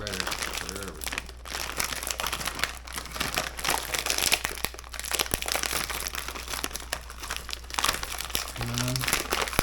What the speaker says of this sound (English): If I can get into this bag, there we go.